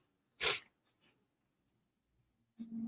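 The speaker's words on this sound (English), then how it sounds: "Gotta take a sneeze break." One sharp, close sneeze bursts out, followed by quiet, then a breathy sniff or exhale near the end.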